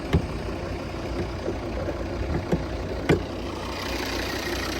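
A 2012 Volvo V50 D3 engine idles steadily at a low rumble, with a few brief clicks and knocks on top; no one speaks.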